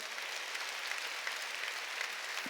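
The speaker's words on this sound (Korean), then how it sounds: "들은 사람만 박수 치라고" Church congregation clapping together during a Sunday worship service: a steady, dense wash of applause from many hands, continuous and fairly even in level, with no voices standing out.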